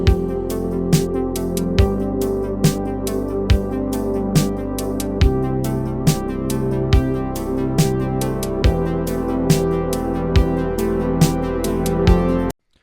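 A mellow, laid-back music loop with a soft repeating pattern and regular low kick thumps, steady throughout, then cutting off abruptly at the end.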